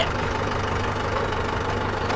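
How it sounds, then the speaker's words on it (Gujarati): A tractor engine idles at close range, with a steady low rumble and a faint knocking pulse that stays even and unbroken. "હવે ટ્રેક્ટર ચાલુ થઈ ગયું છે"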